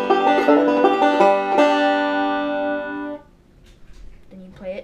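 Banjo plucking out the first part of the old-time tune Cripple Creek, a quick run of bright picked notes for about three seconds, then a short quieter gap and a few more notes near the end.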